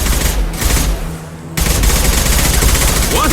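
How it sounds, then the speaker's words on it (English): Heavy gunfire in Mass Effect 2, loud close bursts of shots that break off into a brief lull and then resume in a sustained barrage. "Firing a high-impact shot."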